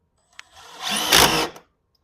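A power drill drives a wood screw into a garage door bracket in one short whirring burst that rises in pitch, then stops. A faint click comes just before it, and the sound is close and alone.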